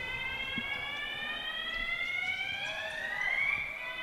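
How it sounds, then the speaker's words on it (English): Fire alarm going off inside a basketball arena during an NBL pre-season game, a steady high electronic tone with faint crowd noise underneath, moderately loud throughout. "Sorry, a bit distracted at the moment by this fire alarm."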